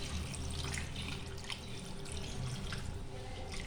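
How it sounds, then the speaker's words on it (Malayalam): Water is poured into a pot of chicken while cooking biryani, producing a faint, continuous splashing trickle with small dripping sounds. "ഇനി നമുക്കിതിലോട്ട് കുറച്ച് വെള്ളം ഒഴിച്ചു കൊടുക്കാം."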